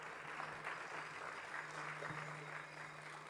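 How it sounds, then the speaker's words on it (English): Applause from an event audience, a faint, steady wash of clapping that fills the short moment without any talk. "I like the applause."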